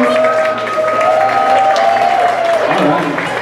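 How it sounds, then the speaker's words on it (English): A theater crowd at a Broadway golden-era singers' show applauds and cheers for Sound of Music fans, with continuous clapping over a sustained sung or held tone and some voices mixed in. "Can you get a big round of applause for Sound of Music fans?"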